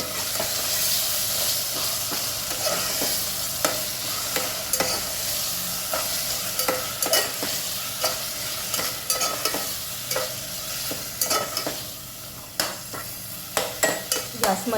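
Onion and spice paste frying in a pan for village-style chicken biryani, a steady loud sizzle with irregular scraping stirs and clacks throughout.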